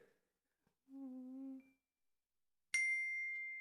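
A soft electronic ding closes a meditation: first a short muted tone, then a brighter bell-like chime that rings out and slowly decays, alone in quiet.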